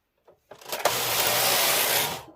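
A sewing machine stitches a multi-colour ladies' cardigan, its motor starting up and then running as a steady, close whirring buzz for about two seconds.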